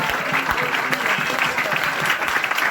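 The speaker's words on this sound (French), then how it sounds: "Vous pouvez l'applaudir" Audience at a political evening in Paris applauding Dominique, a full, steady wash of clapping from many people filling the room throughout.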